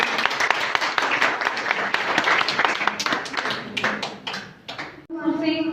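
Brisk applause from a women's event audience at a Quran recitation contest, a busy crackle of claps that tapers off, followed by a voice beginning to speak at the very end.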